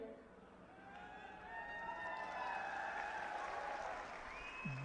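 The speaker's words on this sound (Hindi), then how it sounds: "अभी आपने ताली बजा दी" Audience applause at a political rally in Haryana, a broad steady clapping wash that swells and holds under a reverberant public-address voice.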